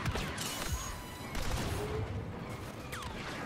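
Explosions and gunfire fill a Star Wars Battlefront II match, with dense crackling shots, booming blasts and sweeping laser-like whines layered continuously throughout.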